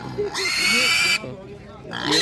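Pigs grunting at a Ukrainian livestock market, short snuffling grunts close by, with broad market noise rising and falling around them and a voice talking over part of it.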